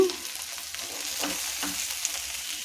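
Soft sizzling in a pan with scraping strokes of a spoon stirring spices with ivy gourd for a fry, a few louder scrapes scattered through, no voices.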